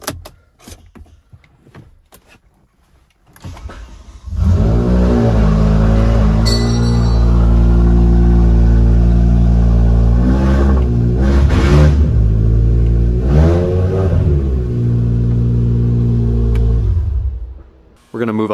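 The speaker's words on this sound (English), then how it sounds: "All right, we're gonna try to start it." A BMW E60 M5 with its engine mid-conversion from SMG to manual gearbox cranks to life after a quiet lead-in, then runs loud and steady with a deep rumble and a few rev surges before cutting off near the end.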